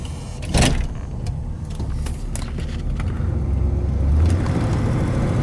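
A 1977 Cadillac Coupe De Ville, a low-mileage classic, rolls along on a test drive, its engine a steady low rumble with cabin and road noise and a brief thump near the start.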